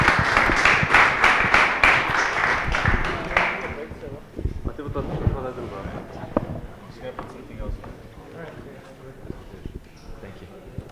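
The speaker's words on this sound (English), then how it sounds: "big round of applause" Applause from an audience at a startup business event rises as panelists are invited to the stage, with dense clapping for about four seconds before it fades into chatter and talk.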